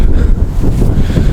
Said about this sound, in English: It is cold and windy.